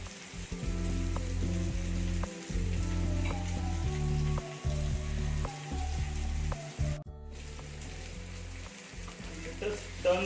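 Bone-in chicken legs frying over medium heat in a pan, a steady sizzling hiss with intermittent gaps and brief clatters, close and fairly loud throughout.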